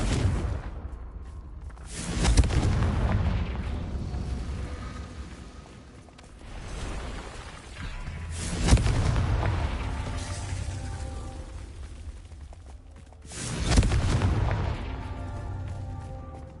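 Spell explosions from the Hogwarts Legacy video game, three heavy booming blasts spaced several seconds apart, each decaying into a rumbling tail over a low continuous background.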